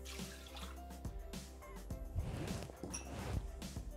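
Water poured into a Thermomix TM6 bowl that already holds milk gives a soft, splashing trickle with a few faint clunks, quiet and close for about four seconds.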